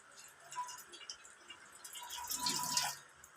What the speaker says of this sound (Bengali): আর এই যে এর ভিতরে আমি কিন্তু একটু জল দেবো।